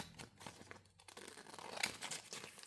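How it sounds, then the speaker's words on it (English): Scissors cut through a transparent plastic shaker pocket close by, giving quiet crinkling and snipping sounds in short irregular bursts. "I can now just cut it off here"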